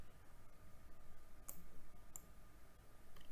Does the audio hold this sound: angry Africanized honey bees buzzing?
no